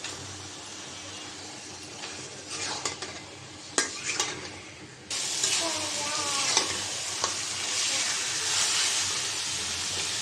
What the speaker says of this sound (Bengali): এখন মুরগির গোশটা দিয়ে দিলাম